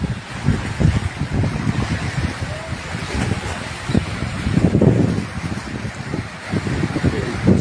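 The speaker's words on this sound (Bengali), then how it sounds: "বাতাস খুব দ্রুত বইছে এবং বাতাসের সঙ্গে সঙ্গে আপনার ঢেউগুলো অনেক বেড়েই" Strong wind drives waves on the Meghna river beside the Shahbazpur tourist centre in Bhola, heard as a loud, continuous rumbling roar of gusting wind and churning water with low buffeting on the microphone.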